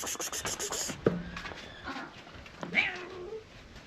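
A cat meows and lets out drawn-out, whining growls, close by, with a few soft background noises between the calls.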